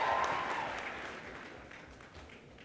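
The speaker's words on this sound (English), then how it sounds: "Man, we got a rowdy crowd here." A rowdy town hall crowd with Elizabeth Warren in Arlington bursts into loud, dense applause and cheering that gradually fades over a few seconds.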